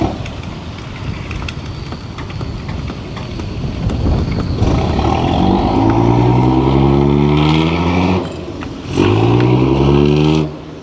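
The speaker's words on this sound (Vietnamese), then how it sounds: "Cành quay chiếc tàu cá này thích nhất là cái tiếng động cơ của nó." The engine of a Vietnamese timber train roars up through rising revs, surges loudly twice with a brief dip between, and rumbles close and strong throughout.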